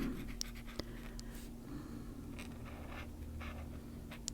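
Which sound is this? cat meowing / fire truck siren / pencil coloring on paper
pencil coloring on paper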